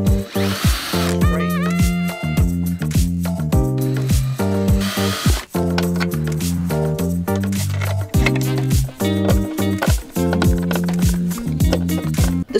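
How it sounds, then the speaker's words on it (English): A power drill drives screws during a solar panel install in a camper van, running in repeated loud, close bursts with short stop-start pauses and a rising and falling whir. "Apparently I'm drilling it, so they're gonna be wonky."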